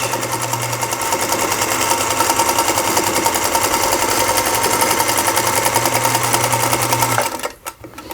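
A sewing machine stitches a quilt block seam at steady speed, a loud, continuous rapid whir and needle chatter that runs without pause and then stops abruptly near the end.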